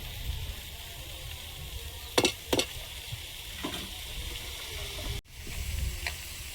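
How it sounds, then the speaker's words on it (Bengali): Greens tossed into a hot pan and stirred, with a steady low sizzle and crackle throughout, two sharp scraping clatters of stirring near the start, then a brief break before the frying noise resumes. "শাকটা দিয়ে দেবো।"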